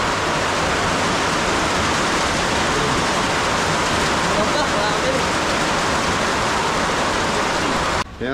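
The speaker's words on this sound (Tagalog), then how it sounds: "Yung bumuhos na naman ang ulan." Heavy rain pours down steadily in a loud, constant hiss that fills the whole stretch and cuts off abruptly at the very end.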